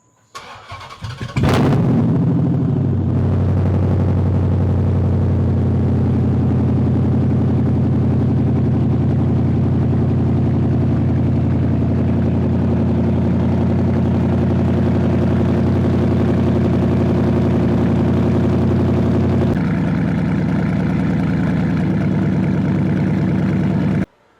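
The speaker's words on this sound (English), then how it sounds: "This is officially the last cold start on the Challenger with the straight piped exhaust." A Dodge Challenger SRT8 engine cranks and fires up on a cold start, then settles into a loud, rumbling idle through open straight pipes, its tone shifting briefly near the end.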